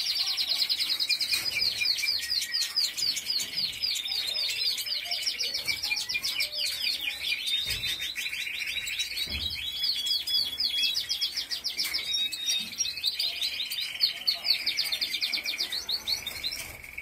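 Several cage birds chirp and sing nonstop in dense, overlapping high trills and tweets, loud and close throughout, with no talking.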